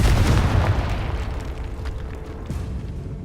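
Confringo fire spell bursting in Hogwarts Legacy, a loud rumbling blast at the start that rolls off into a long fading roar with a smaller crackle near the end.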